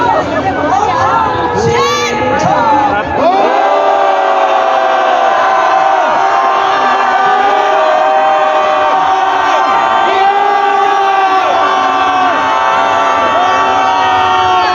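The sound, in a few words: rally crowd shouting in anger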